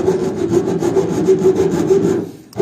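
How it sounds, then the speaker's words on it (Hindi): A hacksaw blade cuts through a washing machine part during a repair, with fast, even back-and-forth strokes, close and loud, that stop abruptly just before the end. "आरी ब्लेड से काट रहे हैं"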